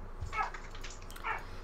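A puppy barks and whimpers indoors, two brief high yelping bursts separated by a pause, fairly faint and distant.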